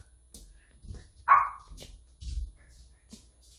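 A person imitates a dog, giving a short, sharp yip-like bark near the middle among faint, scattered small noises, fairly quiet and close.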